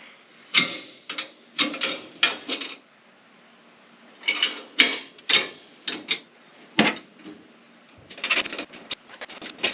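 Metal parts of a welded roll cage cross member on a Chevelle being unbolted, with shims pulled out: a run of sharp clanks, ticks and rattles in bursts, close and fairly loud, with brief pauses between handling sounds.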